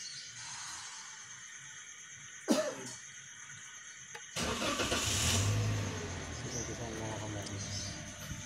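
A car engine cranks and catches after a GPS tracker has been fitted, settling into a steady idle after a brief cough-like sound and quiet background hum.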